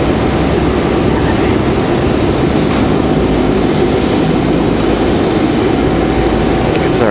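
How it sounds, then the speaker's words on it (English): Boeing 757 departing Raleigh Durham airport, a loud, dense engine roar at full takeoff power, unbroken and steady throughout, close and overwhelming with no pauses. "Should be one fantastic departure here, that 757."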